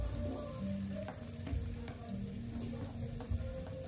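Chopped onions, garlic and pepper frying in a pot for fried rice, a steady low sizzle with occasional faint stirring scrapes, close and fairly quiet throughout.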